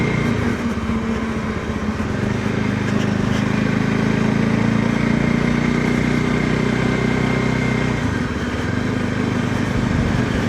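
A VOGE 300 Rally motorcycle engine drones steadily while riding, a loud continuous hum with a slight drop in pitch near the end, heard alone without talk.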